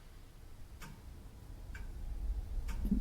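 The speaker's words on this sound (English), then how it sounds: "We're hearing a clock." A clock ticking in an empty room, three faint, evenly spaced ticks under a low background rumble.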